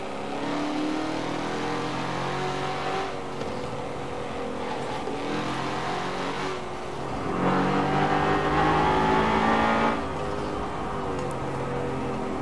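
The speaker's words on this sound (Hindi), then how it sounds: "इसका भी साउंड काफ़ी एग्रेसिव है" A BMW M5's exhaust rises and falls through several aggressive revs, with a louder sustained surge in the middle before it settles back to a lower growl.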